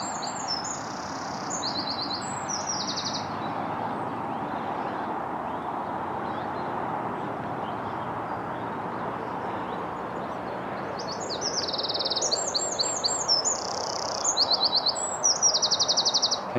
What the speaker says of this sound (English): Can you hear the bird song?